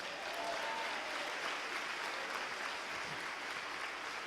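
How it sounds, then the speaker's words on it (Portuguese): A church congregation applauds during an evangelical prayer-night service, a dense and continuous sound of many hands clapping at an even level from start to finish. "Aplaude o Senhor mais uma vez."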